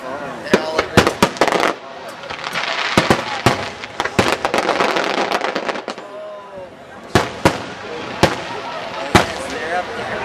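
Fireworks exploding nearby in a rapid series of sharp loud bangs and crackles, with bursts clustered then spaced out, while people talk and exclaim excitedly over the blasts.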